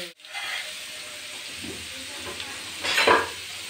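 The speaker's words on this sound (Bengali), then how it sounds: "এখন আলুগুলি নতুন আলু তো একটু হালকা ভেজে নেব" New potatoes are lightly fried in oil in a frying pan, with a steady close sizzle and a few louder bursts of spattering and stirring scrapes.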